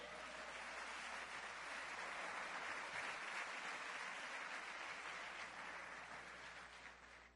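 A church congregation applauds the Lord together in steady, dense clapping that lasts several seconds at full strength before tapering slightly at the end, with no speech over it.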